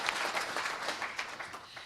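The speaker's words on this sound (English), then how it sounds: "Let's give another round of applause to our new inaugural professor" Audience applause for a new professor at a university inaugural lecture, a soft, diffuse patter of many hands from a hall, brief and somewhat distant, fading toward the end.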